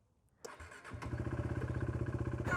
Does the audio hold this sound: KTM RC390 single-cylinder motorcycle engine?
yes